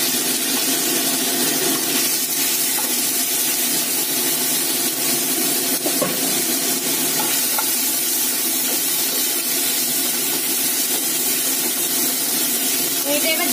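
Marinated chicken frying in hot oil in a wok gives off a loud, unbroken hiss and sizzle that stays even throughout, with no pauses.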